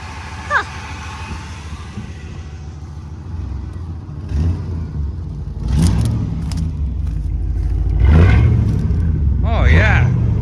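An OBS GMC K2500 farm truck with a blown head gasket and dual exhaust pipes runs with a deep steady rumble, rising in a couple of revs, while people talk over it.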